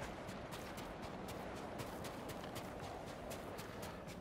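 Horse hooves galloping at a steady, rapid clip in the video game Ghost of Tsushima, a continuous run of close, even hoofbeats over constant outdoor background noise, with no talk.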